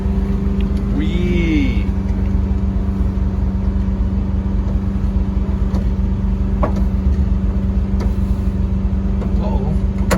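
A 1972 Volkswagen Westfalia van engine drones steadily while the van backs up in reverse, a loud continuous low rumble with a brief whine, and a voice briefly exclaims over it.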